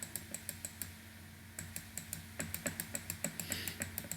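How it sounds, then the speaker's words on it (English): A computer mouse clicks while map areas are selected for a contour map, giving quick, quiet, evenly spaced clicks in dense runs with brief pauses, heard alone without talking. "just clicking on the area"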